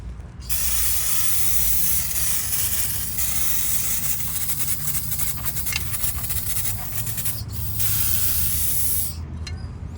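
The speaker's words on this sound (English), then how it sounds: "Clean this down. Good old brake clean. And use an entire can." A can of aerosol brake cleaner sprays in one long, loud continuous hiss while cleaning the emergency brake of a 2002 Honda Civic, with brief pauses and small clicks near the end.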